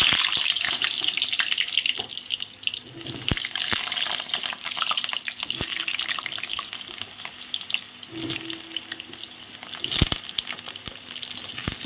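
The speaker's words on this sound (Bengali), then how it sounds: "তেল গরম হয়ে গেছে, আমি প্রথমে আলুটা ভেজে নেব।" Potatoes frying in hot oil in a home kitchen pan, giving a steady close sizzle that runs throughout with occasional utensil clinks and stirring scrapes.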